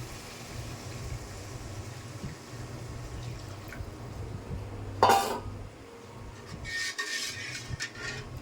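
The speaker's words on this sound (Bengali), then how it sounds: "এখন জল দিয়ে নেব।" Water poured into a pan of oil-fried spices for egg curry, with a quiet sizzle before a sudden splash and hiss, then a clatter of the pot and utensils.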